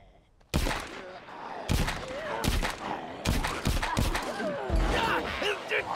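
Loud, sharp single gunshots in the VR game Saints and Sinners, a handful of spaced blasts with echoing tails across several seconds, one pair close together, with a man muttering in between.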